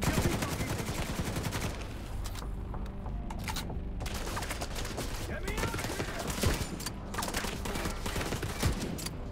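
Sniper rifle shots in the video game The Division 2 mix with a dense, rapid clatter of gunfire. Sharp, loud cracks repeat throughout with barely a pause.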